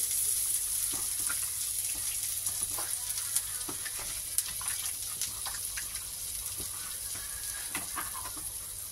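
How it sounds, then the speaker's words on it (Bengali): Chicken pieces frying in melting butter in a pan, a steady soft sizzle with scattered crackles and pops and light clinks of stirring throughout. "আবার একটু মাখন দিয়ে দিলাম। মাখনটা গলে যাক, বাকি পিসগুলো দিয়ে দেবো।"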